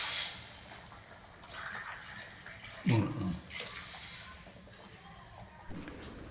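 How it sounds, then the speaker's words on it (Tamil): Water poured into roasted semolina in a pan while making mango kesari, a brief loud hissing, sizzling splash midway through quieter background noise, with a person talking throughout. "அது 3/4 கப்பு தண்ணி ஊற்றிக்கலாங்க"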